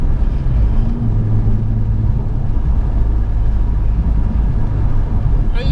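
A Subaru driven flat out on country roads near Goodwood gives a loud, steady low rumble from close inside the car, with no voices.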